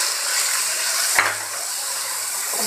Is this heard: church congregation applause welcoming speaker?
no